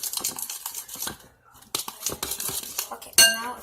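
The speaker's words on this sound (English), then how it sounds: "now I'm gonna mix it really well" Lotion slime being mixed in a bowl, giving close, repeated clinking and scraping strokes with a short pause midway and a sharp bright clink near the end.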